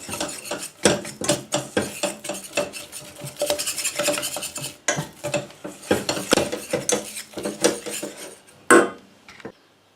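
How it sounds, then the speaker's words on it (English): Flour and fat are stirred into a thick paste in a hot pan for a lasagne sauce, the utensil scraping and tapping against the metal in quick, uneven strokes close up, with a louder clack near the end. "So I'm going to actually turn the heat off and mix this into a paste."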